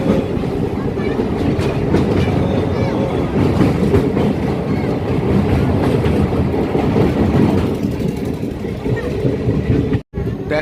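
A train runs along a hilly route beside a mountain river, heard from the open door as a loud, continuous rumble and roar of wheels and wind, with a brief dropout near the end.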